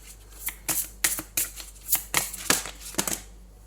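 Tarot cards are handled, shuffled and drawn one at a time, giving a series of close, crisp flicks and slides in irregular bursts with brief pauses between them.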